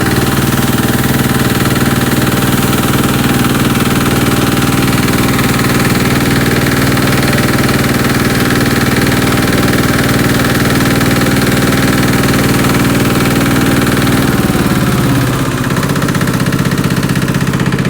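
Small farm machine engine running steadily in a cabbage field during harvest, loud and close with a constant droning hum and vibration, shifting pitch slightly near the end.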